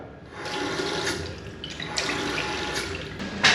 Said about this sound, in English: the water is now just passing through here and beginning to top this system up